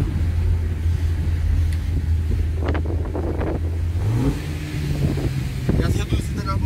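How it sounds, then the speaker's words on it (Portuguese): Fiat Palio Sporting engine held at a steady low idle hum, then blipped so the revs climb and step up, with wind buffeting the microphone throughout. "E as reduzidas na borboleta desse carro aqui é bastante doido."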